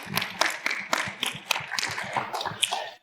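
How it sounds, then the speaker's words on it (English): An event audience breaks into applause, a scattered round of clapping with distinct individual claps, fairly close and fading out at the end. "So let's give them a round of applause,"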